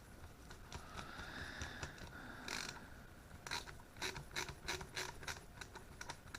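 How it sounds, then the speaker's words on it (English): A screwdriver snugs lock screws into a Browning Auto-5 Magnum 20 shotgun during reassembly, giving close, quiet metallic ratcheting clicks in quick irregular bursts with faint scraping and no talking. "So we'll insert our lock screws now. Just get them good and snug."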